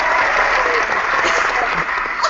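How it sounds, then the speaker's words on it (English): Recorded applause effect of a clapping crowd, triggered from a sound tool during a Pink Posse training session, steady and loud throughout without a break. "We need clapping right here."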